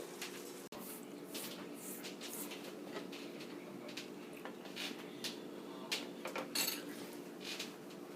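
Arroz con gandules rice being stirred in a covered pot over low heat: quiet, irregular scraping and clinking of a utensil against the pot, with a cluster of sharper metallic taps near the end.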